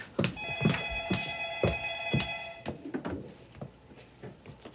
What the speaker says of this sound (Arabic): رد على التليفون وهكمل الكلام